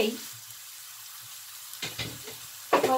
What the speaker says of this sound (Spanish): medio bajo para que se poche suavemente, se nos haga, vaya sofriendo suavemente